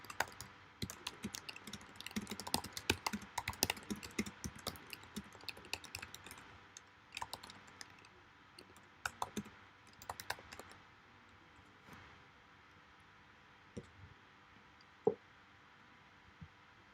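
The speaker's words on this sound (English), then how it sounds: "I'll type it in the chat too." Quiet typing on a computer keyboard, irregular bursts of light key clicks that thin out into a few isolated taps, close and alone without speech.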